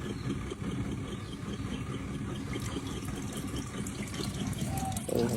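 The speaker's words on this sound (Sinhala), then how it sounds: "හොඳට වතුර බේරෙනවා" Water pours out steadily as a washing machine drains, a continuous rushing flow under a low motor hum, close and unbroken.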